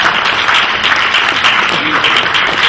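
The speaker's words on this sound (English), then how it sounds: "I'm sure the Prime Minister heard your applause." An audience applauds steadily and loudly at a political talk about education and scholarships, a dense wash of clapping sustained for the whole stretch with no voices over it.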